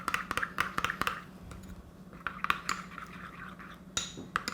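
A spoon mixing bibimbap sauce in a bowl, rapid clinking taps against the bowl in bursts with softer stirring between, close and fairly quiet.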